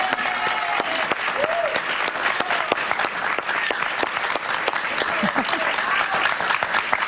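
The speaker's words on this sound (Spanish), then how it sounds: "Un aplauso para ella." A television studio audience bursts into loud, sustained applause on a Spanish-language talk show as a guest is welcomed, thick continuous clapping with a few scattered voices and faint tonal sounds mixed in.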